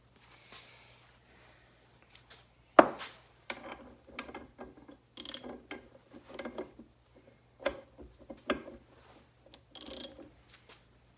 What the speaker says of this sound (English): I'll try the ratchet.